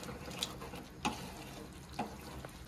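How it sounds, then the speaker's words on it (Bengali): Fried potatoes get stirred through spice paste in a pan: a quiet, low sizzle broken by three soft scraping clicks of a spoon, spaced about a second apart. "এবারে মশলার সাথে আলুগুলোকে ভালো করে কষাবো।"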